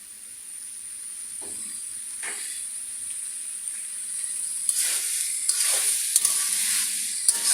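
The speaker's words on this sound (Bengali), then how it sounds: "এবার একটু ভালো মতো নেড়ে ছেড়ে নিই" Vegetables for homemade noodles tossed and stirred in a hot pan, a constant bright sizzle running throughout with repeated spatula scrapes growing busier toward the end, close by and without speech.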